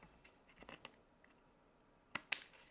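Designer series paper being trimmed along its edge for a handmade card, a few soft snips and scrapes followed by two sharp close cuts near the end, in a quiet room with no talk.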